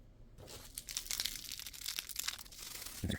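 Someone tears open the foil cover of a vinyl repair kit, making close, crackly tearing and crinkling that comes in several bursts over a few seconds.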